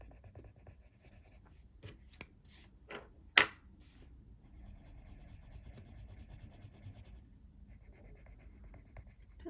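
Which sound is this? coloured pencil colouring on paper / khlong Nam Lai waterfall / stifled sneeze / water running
coloured pencil colouring on paper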